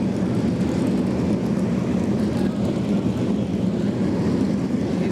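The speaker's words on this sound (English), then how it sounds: "Craig Bottrell's car doesn't sound right from up here" A limited sprint car's engine at a Bunbury sprintcar A Main race, a loud, steady, unbroken roar that holds the same level for the whole stretch, with no voices over it.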